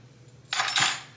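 A metal utensil stirring a seasoning mix of kosher salt and black pepper for chicken wings in a bowl: a quick scraping clink, close and brief, following a moment of quiet.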